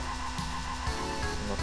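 Car tires skidding and squealing as the car spins out in a racing video game, a steady strained engine and tire screech held close and loud for a short moment, without talk.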